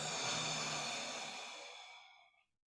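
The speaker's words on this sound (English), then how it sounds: "breathing out." A long, steady exhale during an exercise routine, a close breathy rush that fades out smoothly over about two and a half seconds.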